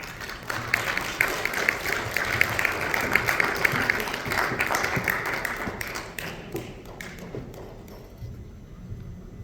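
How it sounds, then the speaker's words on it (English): Applause from a fundraising dinner audience, a sustained crowd of clapping and tapping that gradually thins and fades toward the end, with no talk over it. "give her another round of applause"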